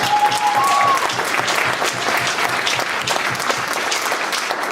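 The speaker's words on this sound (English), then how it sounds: "We're going to give another round of applause to my direct supervisor, Ms. Berman" A school audience at a high school band concert claps in a steady, dense round of applause that holds at even loudness throughout. A brief whistle rises near the start.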